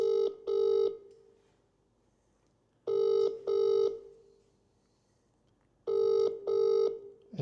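A telephone rings in three bursts of a double ring, each pair separated by a few seconds of quiet, while a prize winner is being called late at night.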